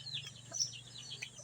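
Gamecock roosters kept as fighting birds cluck softly in a backyard coop, with short scattered calls over a low steady hum.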